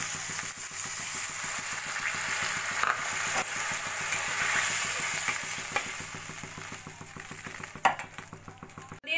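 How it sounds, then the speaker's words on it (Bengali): Vegetables frying in a pan for sabudana khichuri hiss and crackle steadily, with a faint rhythmic mechanical pulse underneath and a sharper burst near the end as water is poured in; no voices. "এবার দিয়ে দেবো আমি পরিমাণ মতো জল।"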